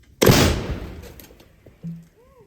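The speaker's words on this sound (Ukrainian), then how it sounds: "Постріл. Постріл." An artillery gun fires one sharp, loud shot at a firing position, its blast booming and then trailing off over about a second and a half, followed by a faint short tone.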